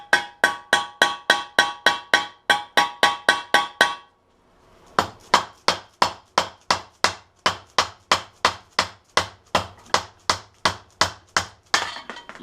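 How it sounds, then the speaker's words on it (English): A hammer strikes a metal punch again and again in a fast, even rhythm of sharp clanks, pausing briefly before the steady pounding resumes, while working on a Honda CB350 motorcycle. "Best results is with this hammer and this punch here."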